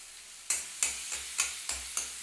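Onions and boiled potato frying in a pan for ghugni, a low steady sizzle broken by six sharp, evenly spaced stirring scrapes, close and clear.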